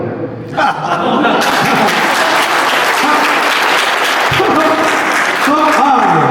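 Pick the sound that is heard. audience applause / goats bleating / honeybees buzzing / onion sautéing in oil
audience applause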